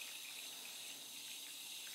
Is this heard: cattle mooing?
no